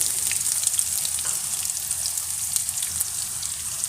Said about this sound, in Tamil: கடுகு பொரிஞ்சோனையும் வெங்காயம் போட்டுக்கலாம்.